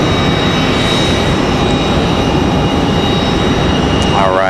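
PSA Airlines regional jet departing Raleigh-Durham International for Washington Reagan, a loud steady broadband engine roar filling the whole stretch without talk.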